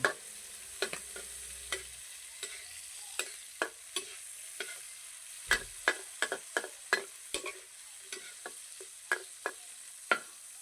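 Ee-pom, a local Thai country dish, is dry-fried in a pan with a faint steady sizzle. A spatula scrapes and taps the pan in irregular sharp clicks throughout, and there is no talk.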